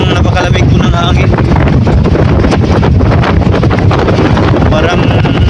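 Strong, very cold wind buffets the microphone in a steady, roaring rush that drowns out most other sound for the whole stretch, in a forest at dawn.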